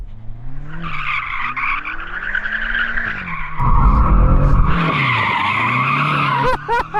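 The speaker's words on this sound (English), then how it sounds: "we need to warm up our tyres, so I'm gonna warm mine up first" A BMW M5 CS warms its tyres with a burnout, giving loud tyre squeal over a revving engine that rises and falls. A harsh, dense roar surges in midway, and no one speaks.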